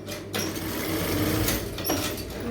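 A sewing machine stitches a blouse neck with a canvas lining, its needle motor running in a fast, steady close-up whir with a brief stop and restart.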